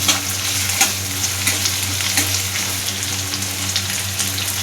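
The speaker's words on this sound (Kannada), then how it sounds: "ನಾನು ಕೂಡ ಅಷ್ಟೇ ನೀಟಾಗಿ ಫ್ರೈ ಮಾಡ್ಕೋತಾ ಇದ್ದೀನಿ" Ingredients for lemon rice, including green chillies, fry in hot oil with a loud, continuous close-up sizzle, a few faint stirring clicks and a low steady hum behind, no talking.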